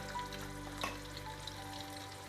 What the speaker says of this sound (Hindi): हमने थोड़े थोड़े प्रॉन शामिल करके हम इसके अंदर फ्राई करेंगे